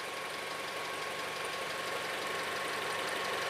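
A car engine idles steadily for a long time while air is bled from its coolant system after a thermostat replacement, giving a constant, fairly quiet hum with a faint rattle.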